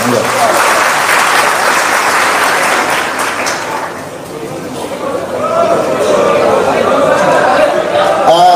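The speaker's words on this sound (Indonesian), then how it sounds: "Tepuk tangan semuanya, teman-teman sekalian." A crowd claps loudly for several seconds, the applause dipping briefly in the middle and then swelling again, with some chatter mixed in.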